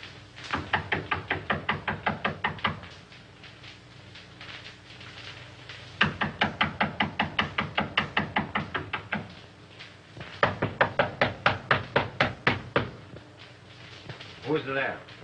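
Someone knocks on a door in three long bursts of rapid, evenly spaced raps, loud and close, with short pauses between the bursts.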